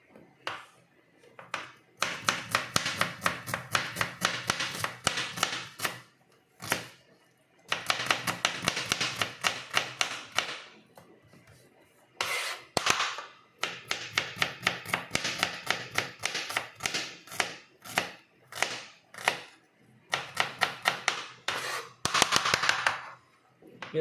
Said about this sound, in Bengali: মরিচটা এরকম করে কাটবো আমি